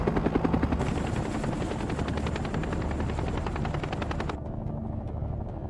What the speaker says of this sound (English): Four miles outside of LZ X-ray, the choppers drop to treetop level.